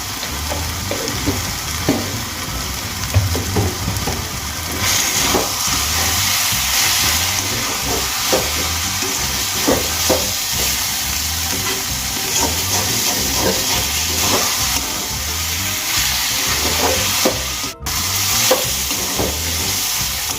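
Data shak greens stir-frying with garlic and a pinch of sugar in a hot pan, loud sustained sizzle with rhythmic scraping stir strokes repeating throughout, close up, no speech.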